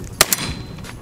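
A single shotgun blast rings out while shooting at rock pigeons outdoors, a sharp crack followed by a quieter second report and a brief fading echo.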